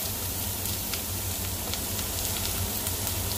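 Garlic sautés in a pan with onion for a tomato spaghetti, a dense, even crackling sizzle heard up close and unbroken, with no talking.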